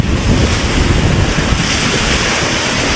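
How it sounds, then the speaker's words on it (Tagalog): Strong sea wind buffeting the microphone with waves surging around a boat on the water, a loud, broad, continuous roar with no break. "Malakas na ang hangin mga kabiwas."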